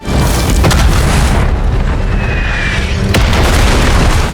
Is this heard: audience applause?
no